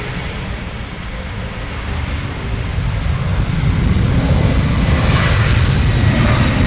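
A five-year-old Delta Boeing 767 moves on the runway at Dublin Airport, its engines a loud, steady, broadband roar that swells gradually, heard alone without talk.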